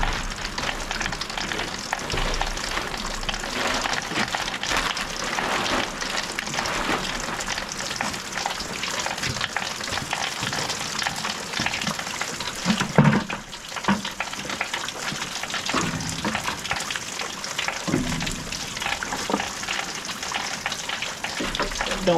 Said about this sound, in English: And of course it's gotta start raining like crazy right now.